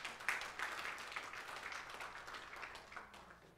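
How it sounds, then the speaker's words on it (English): A church congregation claps together in a faint, scattered round of applause that lasts a few seconds and gradually tapers off. "Give the Lord a hand clap before you're seated this morning"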